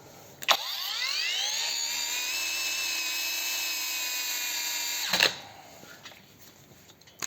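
After a click, an overheated battery angle grinder on a TPCELL 4Ah battery with Tenpower INR21700-40XG tabless cells spins up to a high, steady whine, runs for several seconds, then cuts off abruptly and winds down.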